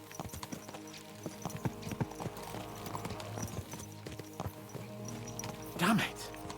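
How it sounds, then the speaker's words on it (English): Horse hooves clip-clop at a steady rhythm in the medieval game Kingdom Come: Deliverance 2, moderately close beneath background music and voices, with a brief louder burst near the end. "Let's really spur these horses on, eh?"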